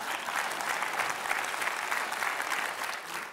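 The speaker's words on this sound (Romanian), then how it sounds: "Aplauze pentru Mobila Ardudana." A TV studio audience applauds in a dense, steady burst, sustained evenly and moderately loud for a few seconds.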